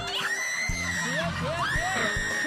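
Several people scream and shriek in fear at a public game where frogs and snakes are put in water, high rising cries overlapping amid crowd noise and voices, loud and close.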